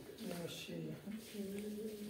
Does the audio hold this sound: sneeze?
no